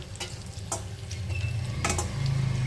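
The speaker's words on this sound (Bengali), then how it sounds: "এরপরে দেখো আমি মাছটা একে একে কিন্তু আমি ভেজে নেব" Pieces of rohu fish fry in hot oil with a steady low sizzle, broken by a few sharp utensil clicks and taps in the pan.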